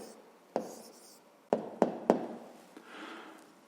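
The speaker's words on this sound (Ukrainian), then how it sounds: "Ну що ж, записуємо відповідь." A pen writes an answer in a fifth-grade math exercise, with a few sharp taps and short scratchy strokes on paper heard up close in a quiet room.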